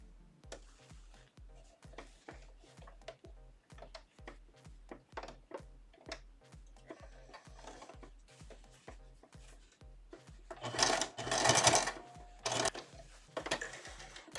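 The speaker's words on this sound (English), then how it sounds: "I'm just going to sew down with that zipper right in the middle." A sewing machine stitches down a zipper on a fabric tote or diaper pod, a quick regular thumping rhythm near and fairly quiet, followed by a louder burst of rustling handling noise toward the end.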